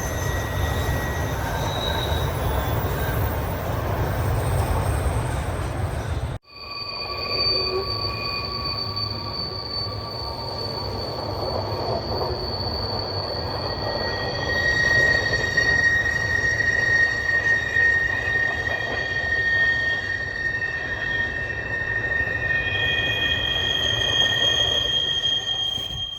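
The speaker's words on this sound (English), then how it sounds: "That was a long ass train." A long freight train with cattle cars rolls steadily past up close, a continuous rumble with high metallic wheel squeals ringing out and growing louder toward the end.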